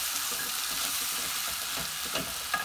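Pigeon peas frying with onions in a pan, a steady close sizzle with scraping stirs and a few soft knocks of the spoon against the pot.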